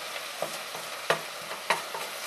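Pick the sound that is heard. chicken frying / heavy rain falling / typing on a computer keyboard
chicken frying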